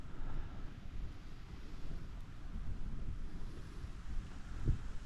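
Wind blowing outdoors in cold weather, a low, steady rumbling buffet across the microphone that swells and eases over several seconds, with no voices.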